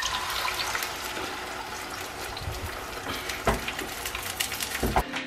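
A mixture is poured into a hot pan of chorizo on high heat, making a continuous splashing, sizzling pour with a few sharper clinks toward the end.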